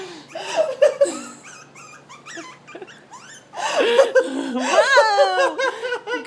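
Puppy yips and whimpers in short high-pitched bursts, with people laughing and chuckling alongside, close by.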